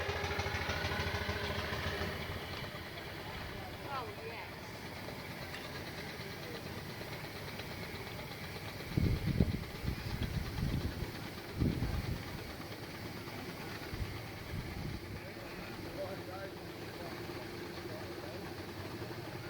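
A miniature 4.5-inch scale steam traction engine named Enterprise runs at an outdoor parade of model steam vehicles, a steady low chugging rumble with a few louder bursts midway and crowd murmur behind.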